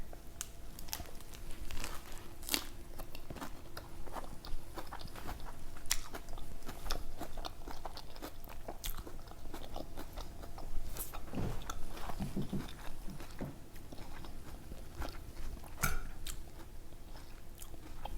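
Biting and chewing chicken lettuce wraps topped with crunchy noodles, with close crisp crunches, crinkles and repeated chewing throughout, no talking.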